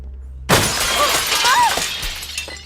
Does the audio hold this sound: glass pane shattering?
yes